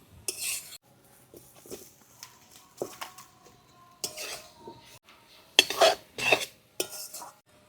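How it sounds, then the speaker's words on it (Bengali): Spiced masala and fried potatoes are stirred in a pan, with sporadic spatula scrapes and metallic clinks in short bursts over a faint sizzle and quiet gaps between strokes. "মশলাটা কিছুক্ষণ কষিয়ে নিয়েছি ভেজে রাখা আলুগুলো দিয়ে আর কিছুক্ষণ নেড়ে চেড়েই জল দিয়ে দেবো"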